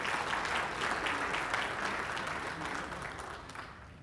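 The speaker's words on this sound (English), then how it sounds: "I hope that's a clap that you're giving yourselves and not me," Warm applause from a conference audience at a UFO symposium, a broad crowd of clapping that holds strongly then gradually thins and fades toward the end.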